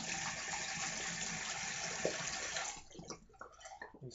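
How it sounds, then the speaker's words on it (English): Water splashing and running as hands wet a face before a shave, a steady close gush that stops partway through and gives way to a few scattered drips and small splashes. "Let me wet my face"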